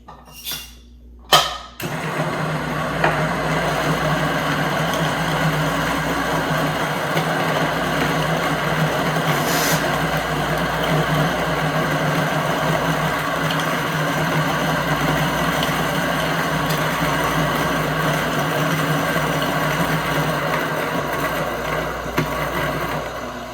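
An electric coffee grinder grinds a measured dose of about eighteen grams of coffee beans for a latte, a loud continuous whirring drone that starts abruptly after a couple of clicks and holds steady to the end.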